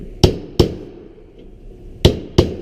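A slotted quarter-inch steel rod taps a sheet-metal tee/wye duct fitting into place, giving four sharp metallic knocks in two quick pairs with a quiet pause between them.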